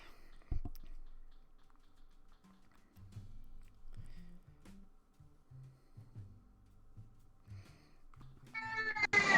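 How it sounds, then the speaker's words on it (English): A house cat meows near the end, a short, close call over quiet clacking of phone or keyboard keys and faint low background murmur. "There's my cat now."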